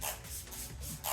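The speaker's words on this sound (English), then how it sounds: "I'm using Smashbox Photo Finish Setting Spray." Smashbox Photo Finish setting spray misted from a bottle in two short, soft hissing bursts, one at the start and one at the end, faint and close in a quiet room with no talking.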